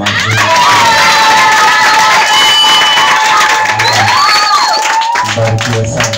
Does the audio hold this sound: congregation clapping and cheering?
yes